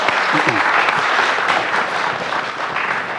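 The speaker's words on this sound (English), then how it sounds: "I would like to give a big round of applause to all our discussion." Audience applause at the close of a climate finance panel on carbon trading: dense, steady clapping across the whole stretch, loud and near, with a faint voice briefly audible beneath it.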